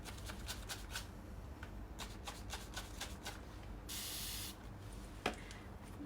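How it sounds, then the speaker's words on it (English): Leftover paint misted from a brush onto a headboard: soft, faint spritzing and brushing strokes in irregular bursts, including one longer hiss, with a small knock near the end. "I've got enough paint in this brush right here left over that I can just mist it a little bit."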